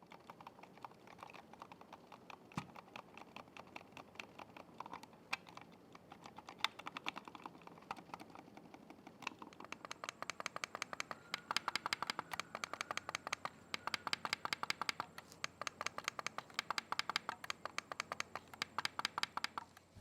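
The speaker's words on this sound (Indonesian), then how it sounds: "contoh suara dari switch yang ada di mouse Logitech Lift dan juga scroll wheel-nya" Quiet, close clicks of a Logitech Lift vertical mouse's buttons, first scattered and then in fast, steady bursts, mixed with soft ratcheting of its scroll wheel.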